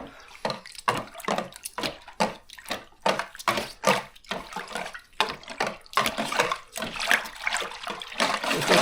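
Heated water is poured into a beer mash for a West Coast IPA, coming in as uneven gushing, sloshing bursts with short pauses between pours, close and fairly loud.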